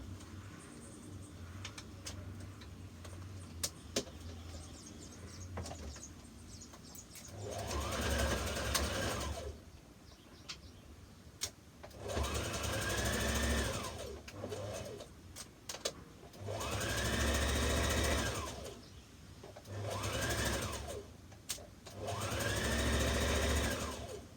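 A sewing machine stitches a dress sleeve in four loud bursts of steady mechanical whirring, each lasting a few seconds and separated by quieter pauses, with soft handling noises between runs.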